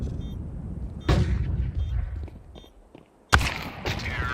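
Gunfire from an AK rifle in the shooter game Crossfire, heard as two sharp shots about two seconds apart over faint background game sounds.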